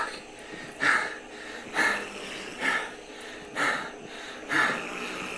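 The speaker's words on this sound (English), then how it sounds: "listen to the breathing noises in the background" Heavy, labored breathing from a person in the background of a police officer-involved shooting scene, five rhythmic gasping breaths about a second apart, moderately loud over a steady hiss.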